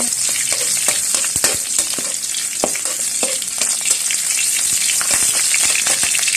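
Pork stir-frying with fried garlic in a hot pan gives a loud, steady sizzle, broken by frequent scraping and clacking of the utensil as it is stirred.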